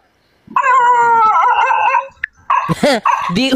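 A man imitates a dog with his voice, giving a long drawn-out howling bark followed by several shorter yelping barks, loud and close, with a brief pause between the two bursts.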